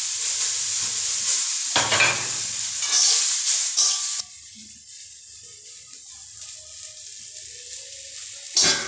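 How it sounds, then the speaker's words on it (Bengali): Mixed vegetables and yukti flowers hiss and sizzle in a little hot oil in a wok while being stirred, loud and close at first, then dropping to a quieter, steady frying crackle with occasional faint clinks. "তেল গরম হয়ে গেছে, এবার যুক্তি ফুলটা ভেজে নেবো হালকা করে।"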